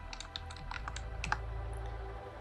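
Quick, light typing on a computer keyboard in a quiet room, with a steady run of soft clicks and taps lasting a couple of seconds and no voices over it.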